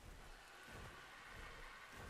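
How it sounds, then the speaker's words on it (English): Rain falls in the video game Ark Survival Ascended, a faint, steady hiss of rain with a soft low thunder rumble beneath, continuous and without speech. "It started raining."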